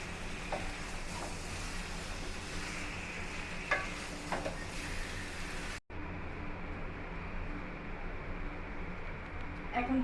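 Tomatoes, potatoes and eggplant frying in spices in a pan, giving a continuous hissing sizzle with occasional stirring knocks; the sound cuts briefly midway, then resumes more muffled.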